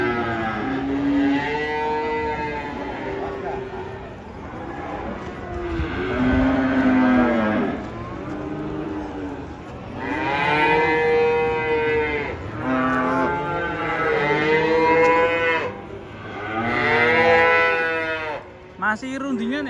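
Agitated cattle being unloaded from a truck moo and bellow repeatedly in long, drawn-out calls, several close and loud, with short pauses between bursts.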